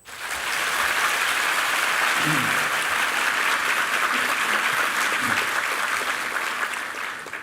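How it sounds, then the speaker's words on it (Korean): A church congregation claps steadily to welcome a university president to the pulpit, sustained applause filling the hall at an even level from start to finish with no voices over it. "우리 총장님 박수로 환영해 주십시오"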